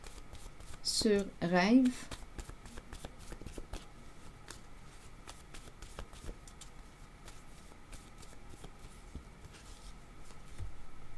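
Tarot cards are shuffled and drawn with soft, papery riffles and light slaps, while a person speaks French nearby in a quiet room.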